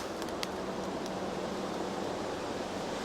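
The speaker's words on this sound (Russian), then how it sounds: "Машины хорошо слышно." Traffic on a nearby highway mixes with wind moving through a forest, forming a steady broadband roar without distinct passes, moderately loud and continuous, with no voices.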